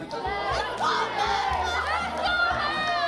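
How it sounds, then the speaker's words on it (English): A school crowd at a theatre event cheers and shouts for a senior student, loud and excited, with high-pitched yells layered over a low, droning background. "this is a little bit of a cheering competition"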